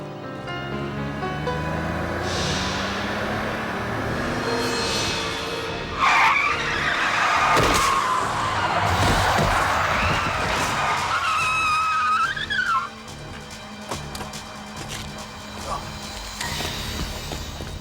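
A car travelling at about 52 mph on a road shoulder skids, with a loud, swelling tire screech rising over engine noise and then cutting off abruptly, followed by lower roadside rumble.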